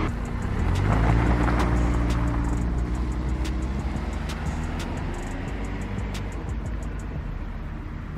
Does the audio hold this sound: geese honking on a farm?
no